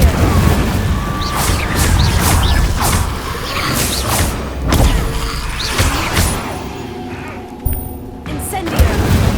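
Incendio fire spell being cast in the Hogwarts Legacy video game, a run of sharp whooshing bursts and booms amid clanking combat mechanisms, loud and busy, with a voice speaking over parts of it.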